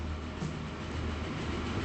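A train runs in the Transport Fever 2 game as a steady, continuous low rumble and rolling roar, moderately loud and unbroken, with no talking.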